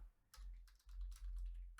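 Fingers tap on a computer keyboard in a few quick, quiet bursts of clicks separated by brief pauses, close and alone over a low background hum.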